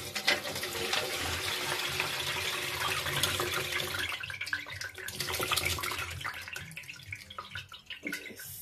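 Homemade hibiscus sobolo drink pours steadily through a strainer, a continuous splashing liquid rush that runs loud and close, then thins into trickles and drips toward the end.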